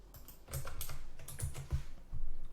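Code is typed on a computer keyboard in quick, irregular bursts of close clicky keystrokes, speeding into a denser run near the end.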